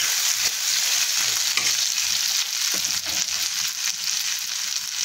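Cut pieces of halwa fry in oil in a pan for a fasting-day dish, a loud, dense sizzle that runs steadily throughout, with occasional scraping stirs and no voices.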